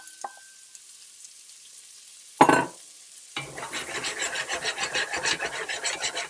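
Onions drop into a hot pan with garlic and ginger, starting with a brief loud splash of sizzle, then a rhythmic scrape-and-sizzle as they are stirred steadily, close and moderately loud.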